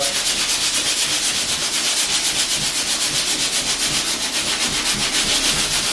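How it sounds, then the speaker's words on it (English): Light hand sanding scuffs across a thin skim coat of filler on a wall, a steady, close, continuous scratchy rasp with quick back-and-forth strokes and no talking. "I'm just going to give it a quick scuff"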